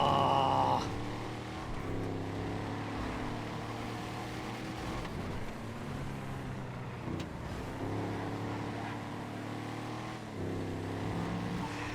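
Drift car sliding in FiveM, an engine droning and revving steadily with shifting pitch as the car swings sideways, continuous and fairly near, with a few surges in the engine note throughout.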